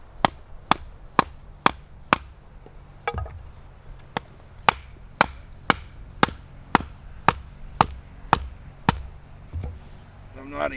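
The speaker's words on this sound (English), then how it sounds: "if I start beating it through a piece of wood, it's going to tear up my batten." A survival knife is batoned through wood with about eighteen sharp, evenly spaced strikes, loud and close, followed by a brief rustle at the end.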